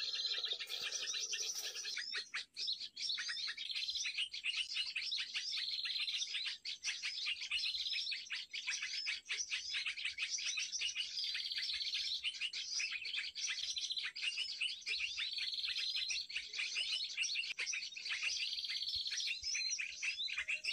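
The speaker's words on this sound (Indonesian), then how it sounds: "Wah, burung kutilang guys." Sooty-headed bulbuls chirp and trill continuously, close and bright, with a busy flow of high tweets overlapping one another, set against a faint breezy background.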